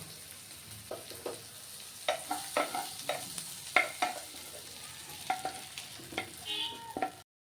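Pieces of an egg and flour snack fry in oil with a soft, continuous sizzle, broken by repeated light scraping and clinking as they are stirred in the pan.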